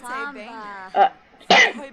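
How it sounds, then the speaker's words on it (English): A person with Tourette's coughs twice, two short, sharp, fairly loud bursts about half a second apart, right after a stretch of their own talking. "I have Tourette's, and that's where this cough is from"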